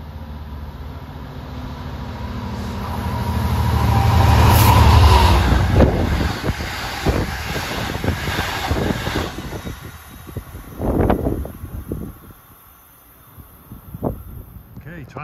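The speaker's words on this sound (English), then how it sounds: "This train 619, the last of the dual modes we will see." LIRR dual-mode train 619 runs westbound through Carle Place on triple track, a loud rumble swelling to a roar as it passes close by, then fading into rhythmic wheel clatter and clunks.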